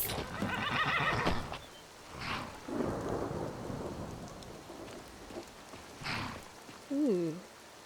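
A horse neighs with a rising, wavering whinny near the end in the Skyrim VR video game, following thunder rumbles and rain in a stormy scene, with brief bursts of sound scattered before it.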